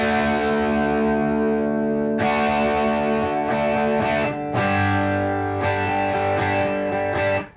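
Distorted electric guitar playing a rhythm part, sustained chords with a few sharp strummed changes, close and alone.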